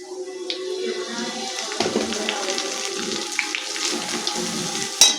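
Semolina poured into hot ghee in a pan, giving a steady close hiss and sizzle with a soft watery rush, a sharp clink at the end, and quiet talk alongside.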